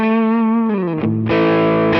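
Yamaha RGX electric guitar with the mid boost engaged for a P90-like tone, sustained distorted notes sliding down in pitch before a fresh chord rings out, loud, thick and alone.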